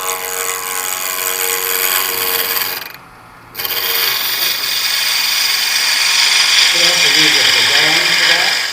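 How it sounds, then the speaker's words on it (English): A skew chisel makes a peeling cut on a small piece of wood spinning on a lathe, producing a loud, steady rasping hiss that breaks off briefly and then resumes, growing rougher toward the end. "learn to do this peeling cut on a small piece of wood like this"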